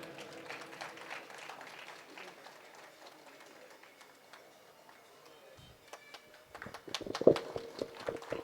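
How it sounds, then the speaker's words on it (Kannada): Audience applause at a Kannada association felicitation honouring senior member P S Shetty, a loose, moderately quiet patter of many hands that swells and turns sharper and more scattered toward the end. "ಜೋರಾದ ಚಪ್ಪಾಳೆ ಬರಲಿ"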